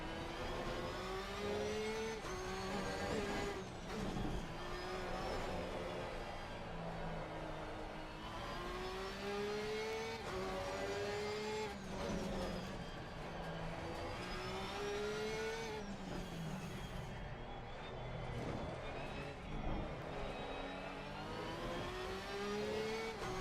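A McLaren race car in the Assetto Corsa Competizione racing game at Barcelona, its engine revving and shifting through repeated rising gear sweeps, sustained and prominent with no talking.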